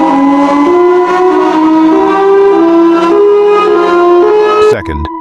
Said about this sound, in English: First, Thunderbolt 1003.